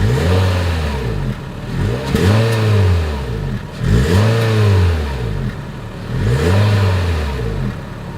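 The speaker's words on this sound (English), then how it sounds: "As always, here is that exhaust clip." A 2022 Honda HR-V's exhaust revs up and settles back down in about four repeated blips, each one a rising then falling engine note heard close to the tailpipe, with no talking.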